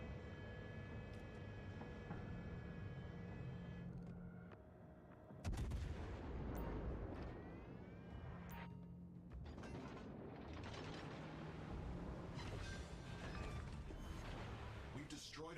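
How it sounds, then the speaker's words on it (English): Heavy naval gunfire in a video game as an enemy cruiser is destroyed: a steady mechanical rumble, then a sudden loud blast followed by a dense run of booming shots and crashing impacts, with voices underneath. "We've destroyed an enemy cruiser."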